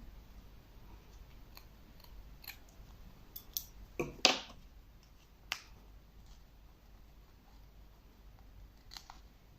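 Scissors cut the back of a small clay mould for a snowman hair clip keychain, making a few faint, sparse snips and one sharper crisp cut in otherwise quiet surroundings.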